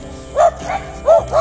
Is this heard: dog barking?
yes